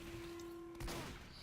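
A single sniper rifle shot cracks out during a Team Fortress 2 match on the Badwater map, a sharp broadband burst over steady game noise and a constant background tone.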